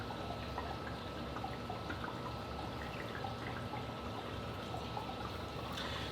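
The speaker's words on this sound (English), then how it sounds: "most of the sound is coming from the bubbling over" Continuous bubbling and trickling water from an aquarium sump spilling onto a filter sock, a steady dense splashing flow heard up close with no pauses or voices.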